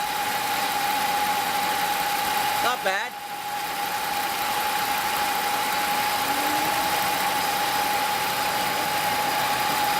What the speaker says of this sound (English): So this is a result of 12 cylinders idling.